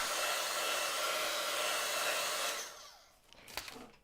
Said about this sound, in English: you could actually use a heat gun and speed the process out